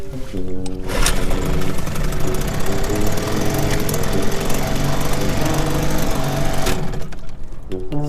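A boat's small outboard motor idles after a dose of Seafoam fuel treatment, chugging steadily and close by for the whole stretch, with a brief dip near the start and near the end, while someone talks over it.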